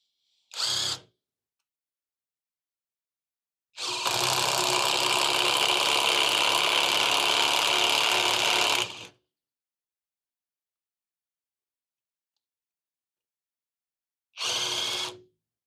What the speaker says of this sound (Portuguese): E utilizando o mesmo bit para a chave de impacto.